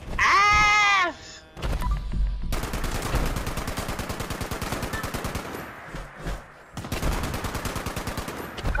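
A shotgun fires in the video game Fallout 76 as rapid, evenly spaced booming blasts in long runs, broken by brief pauses; a short voiced cry comes before the shooting.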